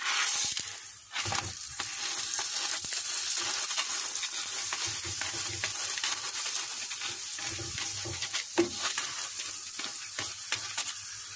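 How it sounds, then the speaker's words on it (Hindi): Aloo paratha frying on a hot pan until golden brown gives a steady, close sizzle throughout, broken by occasional soft clicks and shuffles of the flatbread. "इसे अब गोल्डन ब्राउन होने तक इसको फ्राई कर लेंगे"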